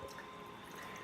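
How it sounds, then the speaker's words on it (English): Collaboration craft beer poured into a glass makes a soft, steady trickling and fizzing flow, faint and close, with no voices over it. "Let's get a good pour."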